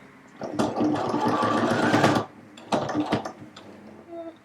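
A sewing machine stitches a pocket onto a coat in close, loud bursts of rapid mechanical needle strokes, one long run followed by a shorter one, with no talking.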